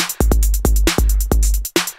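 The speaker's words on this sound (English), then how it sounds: "I got some drums" Electronic drums in an electro track made in FL Studio, loud punchy kicks and snappy hits in a tight repeating pattern with short gaps between beats.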